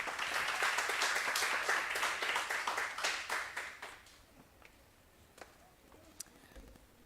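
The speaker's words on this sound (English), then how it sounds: "Please give a round of applause for Mbali." An audience claps together at a women's leadership conference, a dense, loud round of applause that holds for about three seconds, then thins out to a few scattered claps and fades to quiet room tone.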